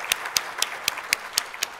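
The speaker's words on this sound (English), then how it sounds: "let's give Cedars a round of applause for welcoming us here today" An audience in an auditorium at a conference welcome session applauds, with crisp, evenly spaced claps standing out sharply above a softer background wash of clapping.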